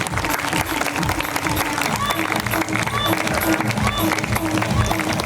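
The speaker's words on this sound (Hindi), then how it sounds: "जोरदार तालियों से स्वागत करें।" Audience applause at an International Day of Yoga gathering in Rakh Bagh, Ludhiana: a dense, steady wash of clapping and crowd noise that holds at full strength for the whole stretch, with a murmur of voices mixed in.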